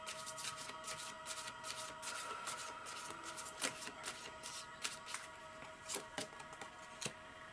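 Oracle cards are shuffled and handled by hand, a quiet run of soft papery riffles, slaps and flicks with irregular rhythm, close but faint.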